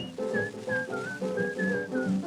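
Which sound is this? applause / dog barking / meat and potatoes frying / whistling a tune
whistling a tune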